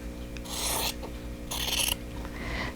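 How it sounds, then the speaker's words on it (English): Scissors cut through quilting fabric, trimming the outer triangle off a block corner: two loud rasping snips, each under a second, close up with a quieter third cut at the end. "I'm just going to use my scissors and just trim off the outer triangle here."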